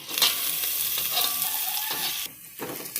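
Onions, green chilies, mint and coriander fry hard in a pan for chicken dum biryani, giving a loud continuous sizzle with scraping stirs. It briefly dips before picking up again.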